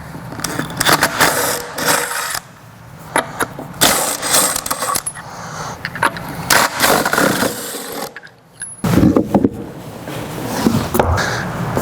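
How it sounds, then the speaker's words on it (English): A 19mm socket on a ratchet or impact tool removing the factory spare tire of a Ford Bronco: loud bursts of rattling, whirring tool noise, separated by short pauses and a clunk, close up. "We're going to go ahead and start with a 19mm socket and remove the factory spare."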